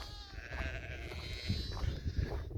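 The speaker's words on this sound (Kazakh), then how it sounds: "Бұяқта жас қозылар." Several young lambs bleat nearby in high, wavering cries over a rumbling, noisy outdoor background on a summer mountain pasture.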